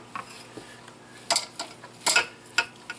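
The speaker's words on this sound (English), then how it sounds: "The instructions say stir it and fluff with a fork." Stove Top stuffing mix stirred and fluffed with a fork in a pot, scattered light metallic clinks and scrapes, quiet and close, with short pauses between.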